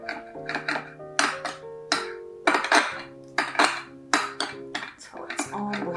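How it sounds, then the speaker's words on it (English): Spoon clinking and scraping against a bowl while stirring a sriracha honey butter sauce with raw honey, in repeated bursts of rhythmic clinks with short pauses between strokes. "I would just stir it up until you get a nice consistency that you want."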